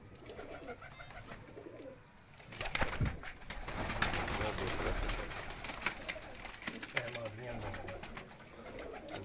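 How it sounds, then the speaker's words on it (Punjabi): Badshah pigeons coo softly on a rooftop, their low, faint calls scattered under outdoor noise and someone talking nearby. "ਮੀਆਂ ਫੈਸਲ ਸਾਹਿਬ ਹੋਰਾਂ ਦੇ ਬਾਦਸ਼ਾਹ ਕਬੂਤਰ ਨੇ ਜੀ"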